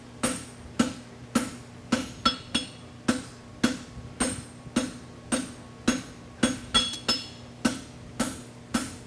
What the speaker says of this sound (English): Now I'm pushing with the hammer